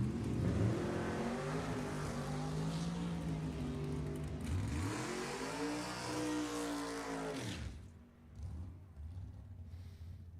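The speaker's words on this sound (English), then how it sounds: "Chris Torres out of Princeton, California, the 1968 Camaro. With a big blower. Strapped to the top of that big block Chevy 540 cubic inch Bullet" A 1968 Camaro drag car with a big blower on a 540 cubic inch big block Chevy roars loudly under hard acceleration. Its engine pitch sweeps up and drops several times before it cuts off and then settles into a lower rumble.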